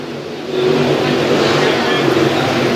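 Crate race cars roar together out of a turn at Tyler County Speedway, a dense, steady engine drone that swells after a quieter first half second and holds, heard from the stands with a commentator talking over it.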